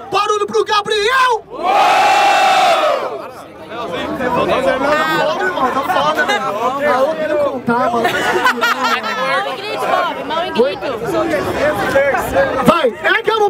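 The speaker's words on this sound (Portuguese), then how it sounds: "Barulho pro Gabriel!" Audience at a street rap battle semifinal in Barueri, São Paulo lets out a brief loud roar and cheer near the start, then settles into dense crowd chatter and scattered shouts with a voice on a microphone.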